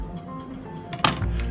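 Metal utensils clink and scrape against a pot in a community kitchen, a brief burst of clattering near the end over steady background hum, with no one talking.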